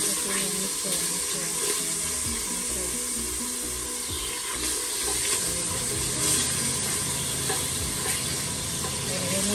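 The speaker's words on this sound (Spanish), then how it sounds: "ya que se deshace la mantequilla, antes que se nos queme, le pongo el agua" Water added to a pan of melted butter for Guerrero-style esquite, producing a loud continuous hissing sizzle and bubbling with some stirring, close up and steady throughout.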